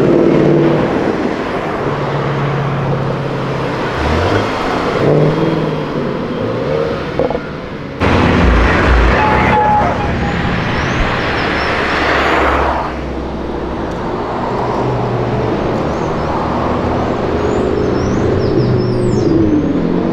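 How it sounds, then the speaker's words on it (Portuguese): A Lamborghini V12 revs loudly as cars leave an outdoor car event in Brazil, its sustained roar blending with other passing engines and traffic noise over about twenty seconds. "É só pra escutar o ronquinho, né? Da Lamborghini, né? V12"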